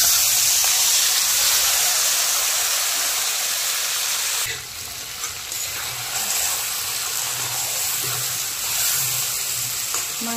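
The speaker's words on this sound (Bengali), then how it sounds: "এবার এই আলু ভাজার তেলে মেখে রাখা মাংসটা দিয়ে দেব" Marinated chicken hits hot oil left from frying potatoes, giving a loud, steady hiss of sizzling that dips briefly and then settles into continuous frying, with no talking.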